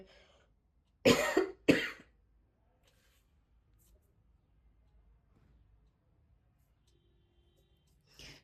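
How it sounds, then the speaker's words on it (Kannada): A person coughs twice in quick succession, close and fairly loud, followed by a near-silent room with only a faint sound at the very end. "ಕೆಮ್ಮು ಜಾಸ್ತಿ ಬರ್ತಾ ಇದೆ"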